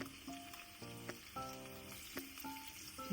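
Finely chopped onion frying in hot oil with cumin, a faint steady sizzle close by, overlaid by tonal background music.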